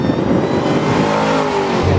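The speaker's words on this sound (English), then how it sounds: "this thing accelerates so hard out of corners" A 2013 Ford Shelby GT500 accelerating hard out of corners on a figure-eight course, its engine roaring loud and close with rising revs throughout.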